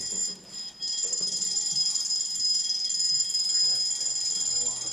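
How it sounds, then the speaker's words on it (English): An alarm clock rings with a continuous high-pitched electronic beeping, steady and fairly quiet, while a voice talks faintly underneath. "I did not set this alarm."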